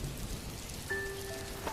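Steady rain patters on a surface throughout as a continuous wash of noise, joined partway through by a faint thin tone.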